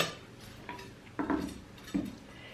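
Chopped onion tipped into a bowl for a Greek choriatiki salad, giving a few soft thuds and clinks of pieces and a utensil against the dish, with two clear knocks near the end, close by with no talk.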